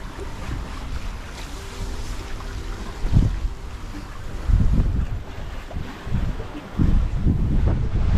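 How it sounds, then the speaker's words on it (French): A sailboat under full sail moves at about six knots in a good wind on an ocean passage. Steady wind rush and water washing along the hull swell in several louder surges. "Nos voiles sont ouvertes. Pleine capacité. Puis on roule à 6 nœuds."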